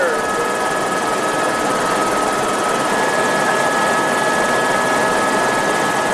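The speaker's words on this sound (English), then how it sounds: "Beautiful helicopter ride on" Helicopter flying over Maui, heard from inside the cabin as a loud, constant rotor and engine roar with a steady whine, unbroken for the whole stretch.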